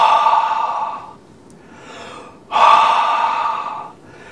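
Two forceful breathy "ha" exhales from a yoga breathing exercise, each lasting about a second, close and loud with a quiet pause between them.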